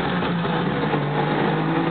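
A 1967 Saab two-stroke car drives through town, a steady buzzing engine drone heard from inside the cabin, continuous and fairly loud with no talk.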